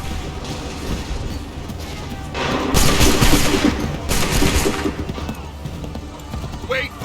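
Musket volley gunfire in Assassin's Creed III, heard as a couple of loud, broad crackling bursts of massed shots amid battlefield din, with a voice shouting commands.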